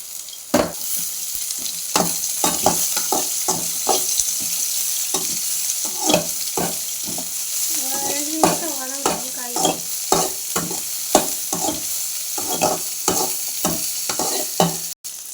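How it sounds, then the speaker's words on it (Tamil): Bitter gourd and garlic being stir-fried in a pan, with a spatula scraping and stirring in repeated sharp strokes over a steady sizzle close up. "பூண்டு போடுறேன். வச்சு காய் போட்டுக்கலாம். பாவக்காய்"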